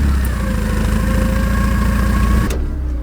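Engine of a 1984 Porsche 944 idling, heard from inside the cabin: a steady low rumble with a faint whine, cutting off abruptly near the end.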